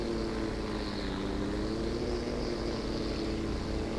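A plane taking off in a metaverse video game gives a steady, loud propeller-like engine drone that holds evenly throughout, with no voices.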